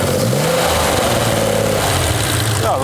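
A classic collector car's engine revs steadily and loudly at close range, rising toward a higher pitch near the end, with no talking over it.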